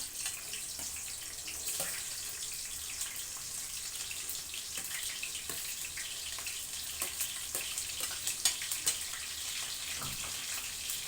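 Onions frying in a pan for a crab curry, a constant even sizzling hiss with faint crackles throughout, heard alone.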